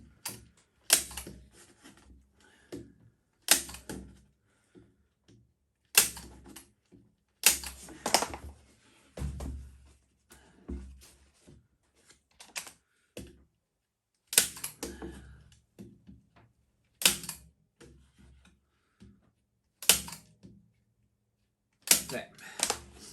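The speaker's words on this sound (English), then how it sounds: "And I'm just pulling, and each pull given a staple." A staple gun fires repeatedly while canvas is pulled taut and stapled to a wooden frame, each sharp snap spaced a few seconds apart and mixed with the rustle of handled fabric, all close and fairly quiet.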